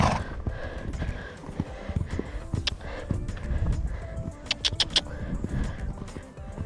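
A horse canters in an arena during an evening yard routine, hooves thudding in a rhythmic three-beat pattern, close and moderately loud, with faint background sounds.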